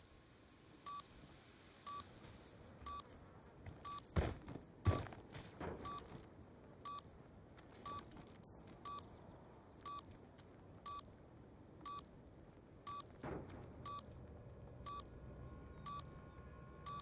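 Planted bomb in a video game on the Slums map beeping steadily, about one sharp electronic beep per second, with a couple of brief dull thuds in between and no voices.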